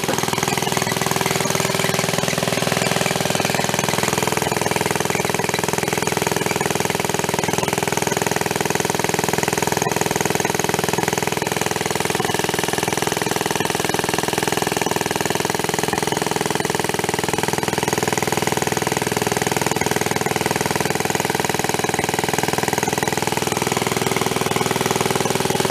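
A donated, previously broken reel mower's small engine runs loud and close at high, steady speed with its air cleaner off, a rough constant roar with a rapid mechanical rattle throughout.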